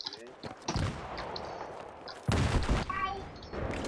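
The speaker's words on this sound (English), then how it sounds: "Somebody set some C4 off or something." A C4 charge goes off in a Battlefield 3 team deathmatch on Noshahr Canals as a sudden heavy blast midway through, amid scattered gunfire and some talking.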